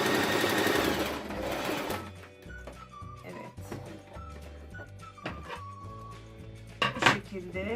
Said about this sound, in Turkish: Tekrar biraz dikip sabit dikiş yapıp yan kısımlarını dikmiş oluyorum